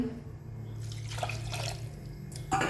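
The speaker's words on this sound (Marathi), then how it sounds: "आता आपण टाकूया पाणी" Water poured from a vessel into a pot holding rice and dal, a short splashing gush lasting about two seconds, close and moderately loud, with a brief clank at the end.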